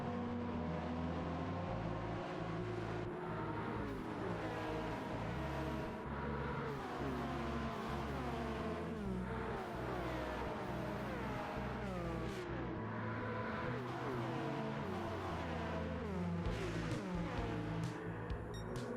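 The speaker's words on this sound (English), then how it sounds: "We are starting P2 in the Toyota GR01 Hybrid, and as the lights go out, I get a really solid launch" A Toyota GR01 Hybrid race car in Gran Turismo 7 launches from a standing start, its engine droning loud and steady with repeated rising rev sweeps as it climbs through the gears, with no talk.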